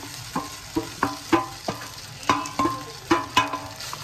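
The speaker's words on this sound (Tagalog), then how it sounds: "Then mag-fry na tayo ng rice." Rice and softened onion are fried together in a pan, with a steady sizzle and a run of sharp, regular scraping taps as a spatula stirs and turns the rice, close and without talk.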